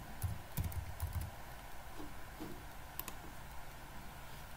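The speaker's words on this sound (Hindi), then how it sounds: "तो सबसे पहले आपको गूगल में टाइप करना है गूगल" A short burst of typing on a computer keyboard, a few quick soft keystrokes up close, then only faint room noise.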